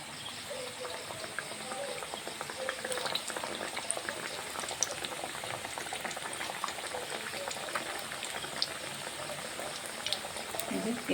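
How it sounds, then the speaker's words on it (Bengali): Kachori fry slowly in lightly heated oil in a wok, giving a dense, steady bubbling sizzle that stays soft and even throughout, heard close with no talking. "এই কটা আমি ভেজে নিচ্ছি।"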